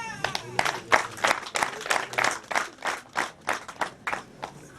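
Wedding guests at a Rwandan betrothal ceremony break into clapping, a run of sharp, fairly close claps that settles into a steady rhythmic beat, with faint voices mixed underneath.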